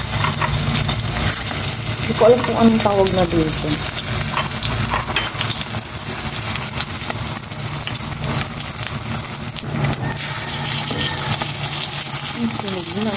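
Pork afritada ingredients fry and sizzle steadily in a pan, a continuous crackling hiss running throughout, with occasional stirring and someone speaking over it.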